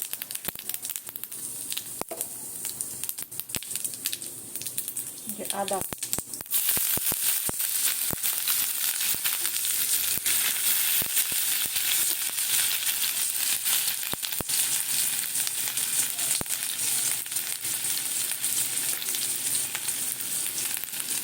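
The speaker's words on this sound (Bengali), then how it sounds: "তেলটা একটু গরম হয়ে গেছে গোটা জিরে দিলাম" Whole cumin seeds hit hot oil and break into a steady, bright sizzle that holds loud and constant, with a few light clinks and stirring sounds before it and scattered crackles through it.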